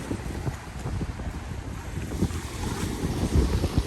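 Wind and waves by the sea, a steady broadband rush with gusty buffeting on the microphone and low rumbling surges throughout, no voices.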